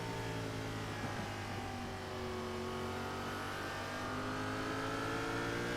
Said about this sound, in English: Full throttle off down the back straightaway